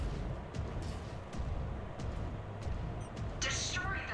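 Mechwarrior 5: Clans mech lasers firing in the video game, several punchy bursts spaced through the clip over rumbling low battle noise, with a brighter sharp blast near the end.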